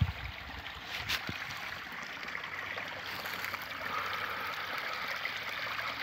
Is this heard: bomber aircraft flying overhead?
no